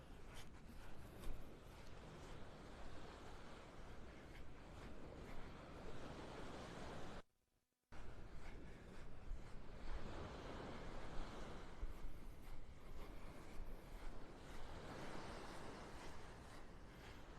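Ocean waves wash in on Pelican Bay Beach in North Naples, Florida, a steady broad surf roar with wind buffeting the microphone, broken by a brief dropout near the middle.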